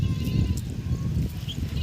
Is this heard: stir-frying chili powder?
no